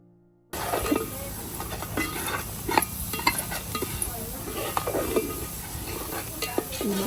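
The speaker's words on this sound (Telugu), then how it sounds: "మసాలాలన్నీ రెడ్గా ఫ్రై అయిపోవాలండి మరీ ఎక్కువ మాడిపోయేట్టు కాకుండా" A ground paste of coconut, cashew and poppy seeds frying in a pan, a steady close sizzle broken by frequent scraping stirs after a short silent start.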